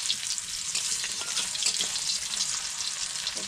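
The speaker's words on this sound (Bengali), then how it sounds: "আলুটা একটু হালকা করে একটু ভেজে নেব" Potato pieces fry lightly in oil in a pan, giving a steady, close, even sizzle with faint crackles throughout and no talk.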